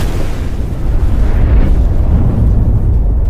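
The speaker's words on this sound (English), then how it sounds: "From another angle, the explosion is clearly visible." A tank shell explosion destroying a Russian tank, a loud, deep, rumbling blast that sustains and rolls on for several seconds with no voices.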